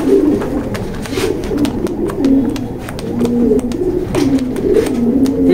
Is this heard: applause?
no